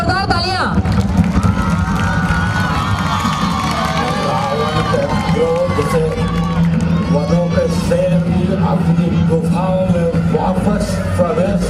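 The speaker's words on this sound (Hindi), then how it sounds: "एक बार लंकेश के लिए जोरदार तालियां।" Large outdoor Dussehra festival crowd clapping and cheering for the Ravana performer, a loud continuous roar of applause mixed with shouting children and crowd babble.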